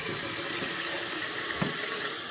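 Water running from a tap as a nasal rinse bottle is rinsed out at a sink, a steady close splashing flow with no talk.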